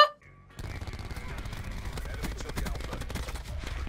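Light machine gun firing in Call of Duty: Black Ops 4, starting after a brief pause and then hammering out a long, rapid, loud stream of close shots with a steady rhythm.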